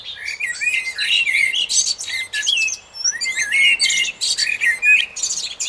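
Several small birds chirp and sing in quick, bright bursts, overlapping phrases tumbling one after another with a brief pause midway, close and clear without any talking.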